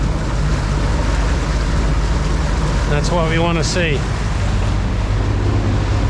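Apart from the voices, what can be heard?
boat engine running at 2200 rpm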